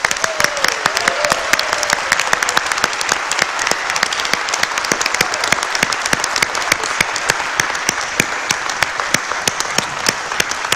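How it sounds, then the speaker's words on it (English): A conference audience gives sustained applause at an E&E Congress honour, dense steady clapping from a large crowd that continues at even strength throughout. "Please give a warm applause for this man's work for the E&E Congresses."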